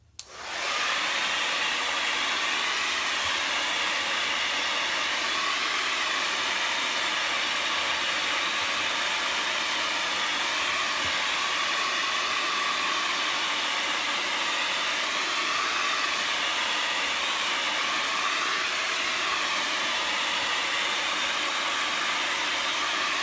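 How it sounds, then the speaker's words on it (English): Hair dryer blowing steadily on a wet painting of coconut palm trees, a loud continuous whooshing hiss with a motor whine that holds unbroken throughout, with no talking. "now I'm going to hit this with the blow dryer"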